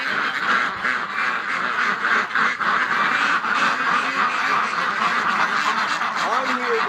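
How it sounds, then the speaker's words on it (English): Female ducks outdoors in winter quack in a busy, continuous chorus close by, with overlapping calls throughout. "let's get these ducks out"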